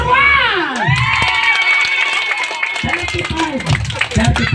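A crowd cheers loudly and shouts for a contestant during a clapping contest, with excited children's voices rising and falling over scattered clapping and talk.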